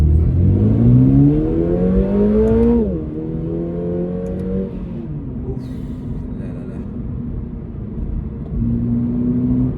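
A car engine revs hard in first gear, pitch climbing steeply, dropping briefly at the shift point, then surging again as a loud close rumble.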